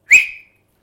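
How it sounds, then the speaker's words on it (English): A small whistle gives a single short, bright, shrill blast that rises quickly and fades within half a second, clear and close with nothing around it. "I open my whistle, it's not too strong"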